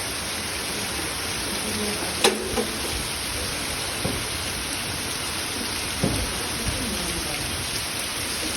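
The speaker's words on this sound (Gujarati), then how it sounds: "તમે જોઈ શકો છો કેવો મસ્ત વરસાદ પડી રહ્યો છે" Steady, dense hiss of a heavy downpour in Radhanpur fills the whole stretch, with a few sharper drips or knocks standing out now and then.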